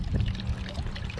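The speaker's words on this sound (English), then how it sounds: "And this is just a floating solar fountain" Floating solar fountain splashing and bubbling water in a birdbath outdoors, a continuous close trickling spray with steady gurgling.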